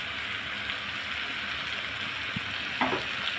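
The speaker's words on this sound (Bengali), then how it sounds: "টমেটো দিয়ে একটু ভালো করে নেড়ে একটু ভেজে নেব।" Chopped tomatoes frying in a hot pan with spices, a steady crackling sizzle throughout, a couple of soft spoon scrapes from stirring near the end, close and alone.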